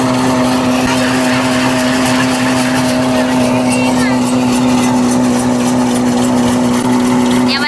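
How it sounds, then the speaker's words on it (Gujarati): A loud, steady engine drones close by with a constant low hum throughout, a tractor running without pause. "ટ્રેક્ટર બહુ વાગ્યો હેવી ડ્રાઈવર છે"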